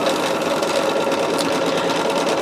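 A sewing machine stitches quilt pieces together, running in a steady, loud, continuous whir with a rapid needle rhythm and no pauses or talking.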